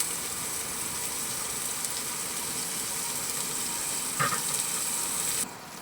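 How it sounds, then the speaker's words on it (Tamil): Onions and garlic sizzle steadily in a hot pan for an eggplant gravy, a continuous frying hiss with a brief louder crackle near the end and no talk. "வெங்காயம் பூண்டும் வதங்கும் முறை வெயிட் செய்யவும்"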